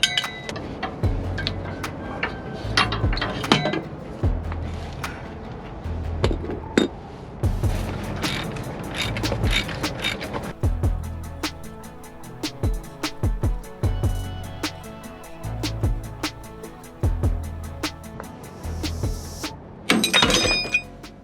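Steering parts being taken apart on a Land Cruiser 80 series, a string of sharp metallic clanks, knocks and rattles at irregular intervals, close and fairly loud, with scraping between hits.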